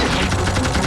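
Machine gun fire from a prosthetic-limb weapon in a demon-killing video game: a loud, dense burst of rapid shots that fills the whole moment with no talk over it.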